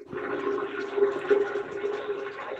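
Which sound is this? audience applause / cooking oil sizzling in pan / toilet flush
toilet flush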